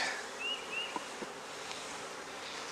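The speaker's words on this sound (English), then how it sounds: "So I need to shake these bees" A faint, steady honeybee buzz hums in the background while bees are shaken off a hive frame, with soft rustling and a few brief higher whines.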